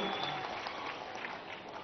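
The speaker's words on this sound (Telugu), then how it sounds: "గట్టిగా చప్పట్లు కొట్టి అభినందించండి" A crowd at a political rally in Andhra Pradesh claps steadily, a dense, sustained applause that fills the whole moment without any break.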